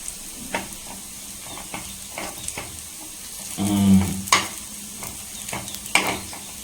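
A snack fries in ghee in a pan, a soft continuous sizzle with occasional stirring scrapes and clinks, swelling briefly into a louder bubbling sputter before settling back.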